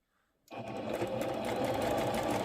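A sewing machine runs steadily after a brief silence, stitching along the edge of piping trim for a cushion, a continuous close whirring hum with a rapid needle rhythm and no speech.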